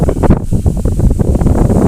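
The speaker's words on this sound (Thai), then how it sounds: "โอ้ลมมาอีกแล้วลม" Strong gusty wind buffeting the microphone outdoors while fish traps are checked on the water, a loud, close, rough roar with uneven bursts throughout.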